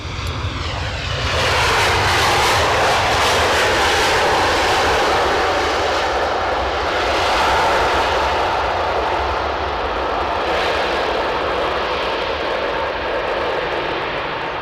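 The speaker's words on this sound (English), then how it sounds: "the outbound Delta flight to Boston" Outbound Delta jet bound for Boston at Edinburgh airport, a loud, steady engine roar that swells and holds for the whole stretch, broad and rumbling with no voices.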